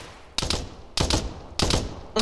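Burst gunfire in ArmA 3 comes as four sharp, loud bursts of a few rapid shots each, evenly spaced and close, with no one talking.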